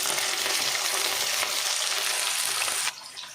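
Potato, beans and carrot frying in white oil in a pan, an intense close sizzle with light stirring, loud and constant before dropping sharply to a quieter hiss at the end.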